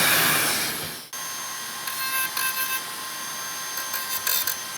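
A Dremel rotary tool fitted with a sanding disc grinds steadily during a PC power supply build, a high whining buzz with shifting pitch that follows a brief louder burst, close and continuous with no talking.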